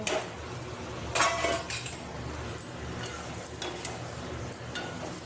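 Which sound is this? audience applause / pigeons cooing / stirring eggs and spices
stirring eggs and spices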